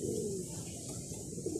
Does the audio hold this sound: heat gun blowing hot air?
no